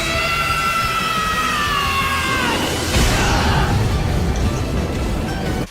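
Animated boy hero Deku screams out in a long, loud yell as he leaps into the air and flames surround his body, the shout falling in pitch before a burst of roaring crash noise takes over.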